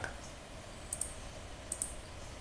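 Typing on a computer keyboard in a quiet room, two short pairs of crisp key clicks about a second apart over a faint background hiss.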